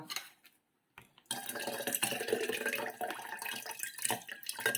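Juice from crushed watermelon, seeds and all, is poured into a container after a brief pause, giving a continuous close splashing, trickling flow that lasts to the end.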